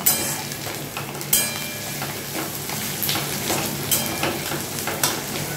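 Oil sizzles steadily in a pan while pointed gourd is fried for Bengali potoler dorma, with occasional sharp clacks of a spatula stirring through the constant crackle.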